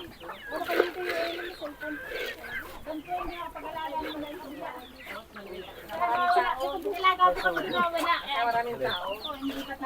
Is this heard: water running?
no